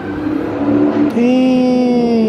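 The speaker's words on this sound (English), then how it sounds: "You can hear the supercharger." Supercharged truck engine revving close by with a steady drone that climbs in pitch after a brief dip, a voice speaking briefly over it.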